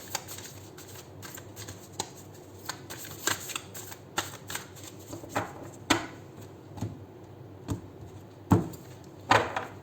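Oracle cards from an angel and ancestors deck being shuffled by hand, with soft repeated riffling bursts and crisp snaps that grow sharper near the end, close and alone in a quiet room.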